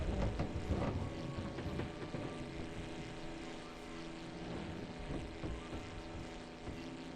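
Propeller aircraft flying in a video game, its engine droning steadily and fairly loud across the whole stretch, with a slight swell at the start and no speech over it.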